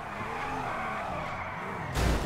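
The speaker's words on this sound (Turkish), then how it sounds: "Şuradan şöyle aşağı doğru drift." A car in the video game GTA 5 drifts downhill, tires skidding in a long, loud continuous squeal over engine noise, ending with a sudden rough burst.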